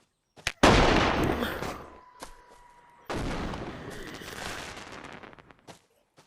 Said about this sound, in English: And then I could shoot the flare gun.